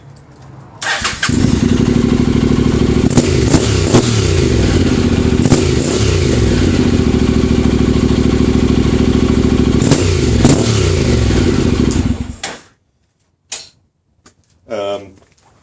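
A Honda NC700X motorcycle fitted with a Danmoto Jisu exhaust and baffle starts up and idles loudly with a deep steady throb and a few blips, close by, for about eleven seconds before cutting off; brief talk follows.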